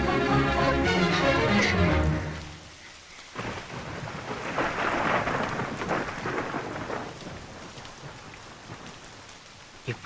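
Heavy rain pours down with rumbling thunder, a loud crack opening the clip before steady rainfall continues on its own with no voices.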